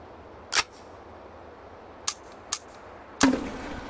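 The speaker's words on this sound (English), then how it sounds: "MGL, I'll try that. Grenade launcher." An MGL grenade launcher firing in the VR game Hot Dogs, Horseshoes & Hand Grenades, four sharp isolated shots spaced irregularly against a quiet background, the last one followed by a brief rumbling tail.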